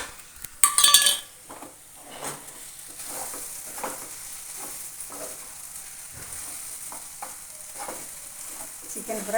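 Spicy pepper chicken stir-frying in a pan with coriander, ground spices and whole spices, a clattering metal clink at the start, then steady sizzling with rhythmic spatula scrapes against the pan, close by, no talking.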